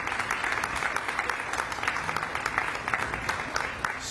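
An audience at a Frontier Airlines crew-base announcement at Cleveland airport gives a round of applause, an even, continuous patter of many hands heard from a moderate distance without speech.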